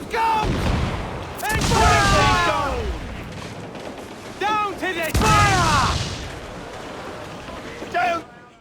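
Ship cannons firing in a broadside during a naval battle in Assassin's Creed 4 Black Flag: two heavy booming volleys about four seconds apart, each followed by lingering rumble, with shouted commands between them.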